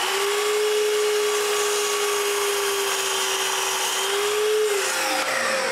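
A power saw cuts wood for the second 30-degree cut on a tripod piece, a continuous whining drone that holds steady, then dips and winds down at the end.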